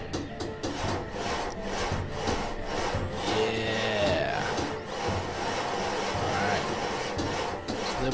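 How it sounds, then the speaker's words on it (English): Villagers in the Banished city-building game saw wood while building a well, giving a steady rhythmic rasp of repeated strokes with someone talking over it throughout. "They're using their saws on the well, and it's done."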